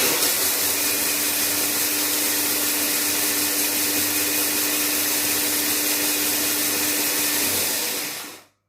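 An electric chopper on turbo setting grinds 50 g of semolina with a loud, steady motor whine and a constant buzzing drone, running alone for about eight seconds before cutting off abruptly.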